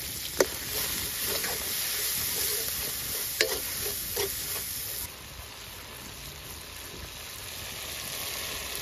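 Salt, cumin powder, chili powder and turmeric fry with onions in a pan at a village cookout, a steady sizzle broken by several sharp spatula scrapes and clacks, close and fairly loud, with the frying quieter in the last few seconds.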